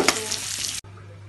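Potatoes fry in oil in a kadai for a chicken dish, giving a loud, steady sizzle that cuts off abruptly near the end and leaves a faint low hum.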